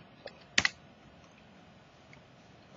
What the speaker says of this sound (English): I'm typing them.